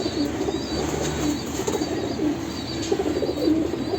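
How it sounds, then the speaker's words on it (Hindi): Soft pigeon coos over a steady rustle of wings flapping close by, with faint chirps in the background. "कबूतर देखो आप"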